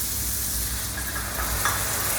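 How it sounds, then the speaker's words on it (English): Two tins of tomatoes tipped into a pan of sizzling onions, chorizo, peppers and garlic, a loud steady frying hiss with a brief wet splutter partway through, close up and no talking. "So now we're going to add the tomatoes."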